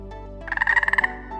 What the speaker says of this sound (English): If you hear a frog croaking